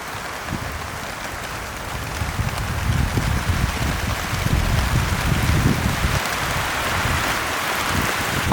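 Steady heavy rain with strong gusting wind beating on a tent pitched on a coastal logging road, a dense, continuous roar that swells a little midway, no voices.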